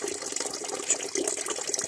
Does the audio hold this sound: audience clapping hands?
no